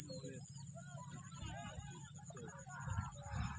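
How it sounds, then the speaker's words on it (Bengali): A steady, high-pitched drone of crickets chirps continuously by a riverbank while people talk and a fowl clucks faintly. "এই দেখেন কত সুন্দর ঝিঝি পোকা ডাকতেছে"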